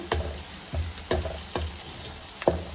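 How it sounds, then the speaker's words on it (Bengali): Garlic and onion fry in a pan with a steady sizzle, punctuated by about five soft, regular scraping stirs, close up and with no voices. "রসুন আর পেঁয়াজটা একটু ভাজা ভাজা করে নিই"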